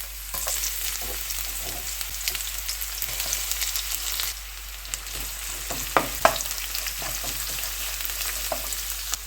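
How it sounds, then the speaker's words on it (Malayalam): Sliced onions sizzle and fry steadily in a pan for Kerala-style cherupayar (green gram) curry, with occasional stirring clatters over the continuous crackle; no talking. "ഇനി ഇതിലേക്ക് സവോള ഇട്ട് കൊടുക്കാം."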